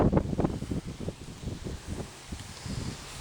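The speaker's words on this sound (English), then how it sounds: "you can hear, it's kind of windy." Gusty wind buffets the microphone in low rumbling bursts outdoors beside a walking lawn sprinkler, with a rustling, blustery texture throughout.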